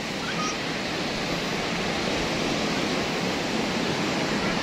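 Ocean waves wash onto a sandy beach in Aceh, a loud, steady broadband roar of surf with no pauses and no voices.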